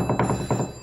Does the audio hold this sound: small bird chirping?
no